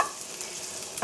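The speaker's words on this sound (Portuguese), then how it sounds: "Enquanto eu estou fritando o bacon em fogo médio" Bacon frying over medium heat sizzles in a pan, a steady hiss with light crackling that stays even and close throughout, no voices.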